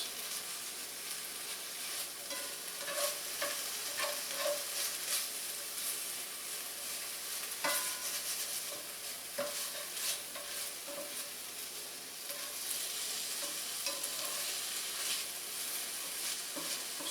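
Rib eye steak sears in a hot pan for a sandwich, with a continuous bright sizzle and frying hiss, broken by occasional scraping stirs and clinks of a utensil against the pan, close and without talk.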